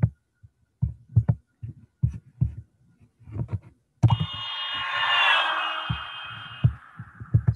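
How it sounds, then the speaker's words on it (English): A car horn honks while the car speeds past on a road, one long sustained blare that slides downward in pitch as it passes, following a run of soft tapping knocks. "If there's a car that's speeding along the road and it's honking its horn"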